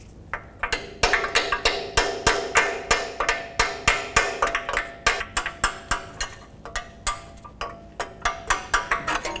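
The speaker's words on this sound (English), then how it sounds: "You have to stick a punch in there, a long, narrow punch, and with a hammer, tap the drive shaft out." Steady metallic hammer taps on a long, narrow punch driving out a Ford Escape drive shaft, a couple of dozen sharp strikes in an even rhythm, close by with nothing else in between.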